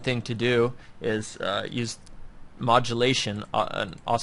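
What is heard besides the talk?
No everyday noises stand out.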